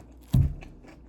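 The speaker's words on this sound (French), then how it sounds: "Je vais manger la moitié d'un concombre." A single sharp crunchy bite into a raw, uncut half cucumber, close and brief, followed by faint chewing in an otherwise quiet room.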